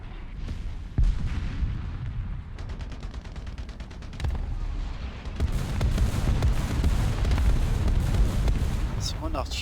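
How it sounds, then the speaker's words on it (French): Artillery called in during a War Thunder tank match lands as a series of heavy booms and crackling blasts. A dense rumbling barrage swells toward the end, with game noise throughout. "C'est mon artillerie que j'ai envoyé."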